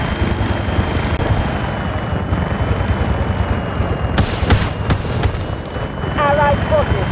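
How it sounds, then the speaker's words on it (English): An artillery barrage in the Delta Force video game: a steady battlefield rumble and engine drone, then a cluster of sharp, loud blasts about two-thirds through, with voices also heard. "Artillery barrage incoming."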